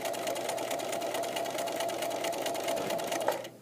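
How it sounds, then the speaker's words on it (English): Sewing machine top stitching a seam on a leather wallet, a steady fast mechanical whir with rapid needle clatter, close and continuous, stopping abruptly at the end. "So I'll just stitch right off the edge, lift the presser foot, pull, and cut my threads."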